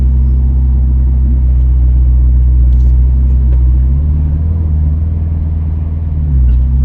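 A Ferrari California T engine rumbles steadily and loudly up close as the car pulls away, with a low drone that shifts slightly in pitch near the end, and no talking.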